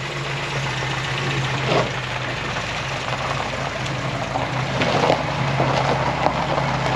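An old, long-abandoned Volvo wagon engine runs steadily on its first drive in years, giving a loud, continuous rumbling drone with slight rises in revs and faint rattles.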